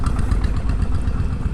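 Honda Vario 160 scooter with about 21,000 km of use, its engine idling in a steady, close, even rumble.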